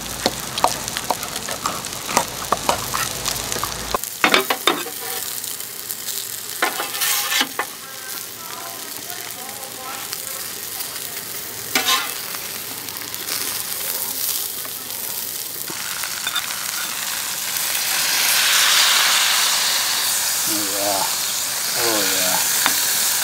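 Ribs sizzling in a Dutch oven at a campsite, a continuous crackling fry with occasional stirring scrapes, close and steady, swelling louder toward the end, with no voices.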